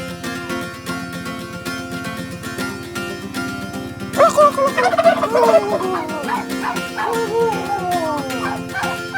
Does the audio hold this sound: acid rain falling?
no